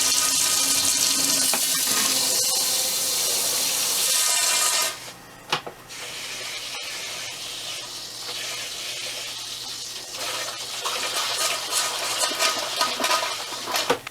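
Toilet flushing in a Jayco Pinnacle RV during winterizing: a loud, steady rush of water fills the first five seconds, then drops to a softer, uneven trickle and gurgle with a few sharp knocks.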